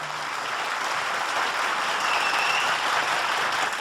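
Steady, dense applause from a mushaira audience fills a hall, continuous and fairly loud throughout with no break or talk.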